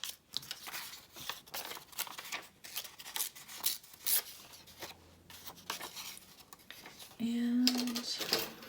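Scrap paper torn by hand for crafting tags, with short scattered rips and crinkles close by, a person talking over them, and a brief tonal hum near the end.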